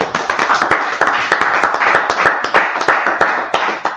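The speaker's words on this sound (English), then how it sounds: "Go ahead and clap it up." A congregation claps at a Sabbath service, distinct rhythmic hand claps in a brisk steady beat, close and fairly loud, with no talking over them.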